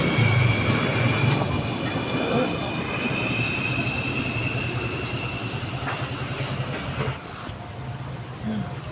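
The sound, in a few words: LRT train passing at Gombak, Kuala Lumpur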